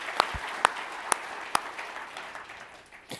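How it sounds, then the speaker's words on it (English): A few scattered claps at an awards event, four or five sharp, isolated hand claps spaced across a few seconds, faint and fairly near, with a quieter burst near the end. "I think it's really deserving of a round of applause"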